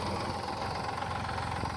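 An 18-year-old farm tractor, hitched to a seed drill for soybean sowing, idles nearby with a steady low rumbling chug that stays even throughout the short stretch.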